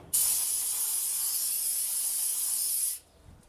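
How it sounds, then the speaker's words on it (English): A single continuous spray of carburetor cleaner onto car brake rotors hisses loudly for about three seconds and then cuts off. "So we're going to use some carb cleaner."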